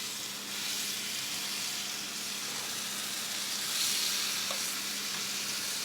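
Tandoori chicken sizzling steadily on a grill at around 180 degrees, a continuous close frying hiss with no voices.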